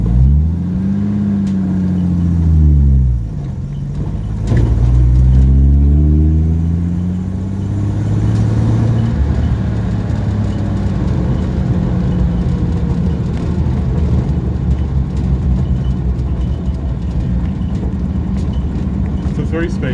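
A 1937 Dodge panel van with a 3-speed gearbox drives along, its old engine revving up and down through gear changes with loud sweeping tones, while people talk over it.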